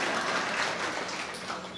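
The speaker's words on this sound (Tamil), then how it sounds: "இதுக்கும் யோசித்து கைத்தட்டின 8 பேருக்கு நன்றி." A small audience claps during a Tamil comedy speech, a dense, fairly loud patter of hands that continues steadily with no voices over it.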